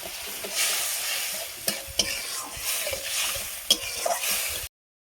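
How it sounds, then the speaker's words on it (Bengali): Spice paste with a little water fries in a pan for an egg curry, heard as a close, continuous sizzle broken by repeated spatula scrapes and a few sharp knocks before the sound cuts off. "মশলাটা ভালোভাবে ভেজে নেব"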